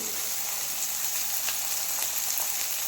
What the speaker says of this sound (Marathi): आता हे सगळं पुन्हा व्यवस्थित परतून घ्यायचं आहे